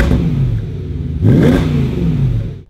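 BMW E91 M3 engine on its stock exhaust revving up hard near the midpoint, a rising then falling mechanical roar over a steady idle rumble, loud and close with no talking.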